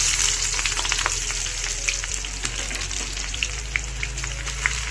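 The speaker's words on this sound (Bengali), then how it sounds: "পেঁয়াজটা লাল লাল করে একটু ভেজে নেবো, লালচে লালচে করে।" Steady oily sizzling of something frying in a pan, with scattered crackles and pops over a constant hiss; no voices.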